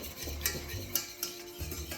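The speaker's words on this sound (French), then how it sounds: "On peut mélanger directement dans la casserole" Cocoa powder being stirred into melted fat in a saucepan for a biscuit filling, with soft scraping and a few light clinks of a utensil against the pan at an irregular pace, close and quiet.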